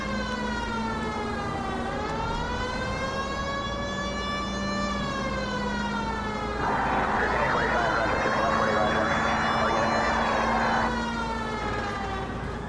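A police car siren wails in the video game L.A. Noire, a continuous rising and falling tone with a harsher, brighter stretch in the middle and an engine hum underneath.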